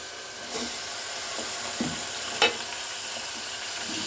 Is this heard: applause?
no